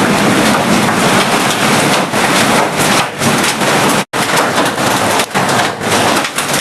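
Hail pelts a tin roof in a loud, dense, continuous clatter, a broadband drumming roar that barely pauses, with no voices.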